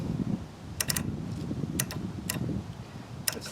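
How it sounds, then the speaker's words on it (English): On a Scotts riding mower, the carburetor solenoid clicks back and forth in a few sharp, separate bursts over a low engine-bay rumble, close by, with no voices. "That's the solenoid jumping back and forth."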